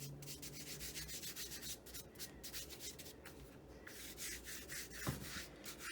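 A pastry brush sweeps excess flour off rolled pie dough, making quiet, steady rubbing strokes close by, with no talk.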